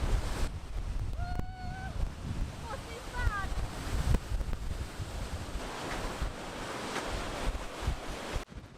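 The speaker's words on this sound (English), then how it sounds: "probably it's always windy down here" Strong wind buffets the microphone in gusts over the wash of ocean surf on the Hawaii Big Island coast, with a few bird calls chirping faintly in the distance.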